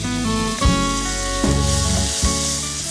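Pieces of boiled raw banana fry in a pan with a steady close sizzle, broken by a few soft stirring knocks.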